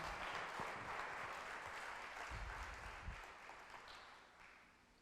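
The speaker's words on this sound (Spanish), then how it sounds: "Dele palmas al Rey de Reyes." Church congregation clapping together, a steady close burst of applause that slowly fades over several seconds.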